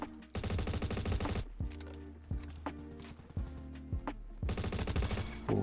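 Rapid bursts of rifle gunfire in the Roblox shooter Bad Business with an AS Val, sharp repeated shots in quick strings and separate single cracks, loud and close, with game music or tonal effects underneath.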